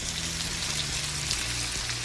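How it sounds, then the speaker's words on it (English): Lobster fresh from the oven, cooked with broccoli and chives, sizzles with a steady fine crackle up close, like light rain, with no voices. "Here's a good look at the yummy sizzling."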